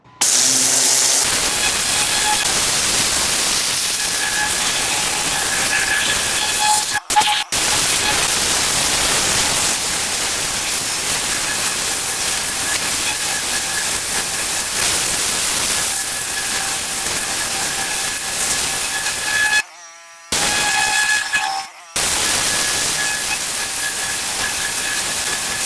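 A pressure washer fitted with a turbo nozzle blasts grime off a large block-paved driveway, a loud, steady hiss of spraying water that runs almost continuously, broken only by a few brief pauses.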